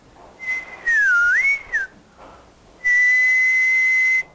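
A steady 1 kHz test tone sounds in a large lecture room, first wavering and bending in pitch, then holding as a clean sustained pure tone for over a second, loud and alone with no talking.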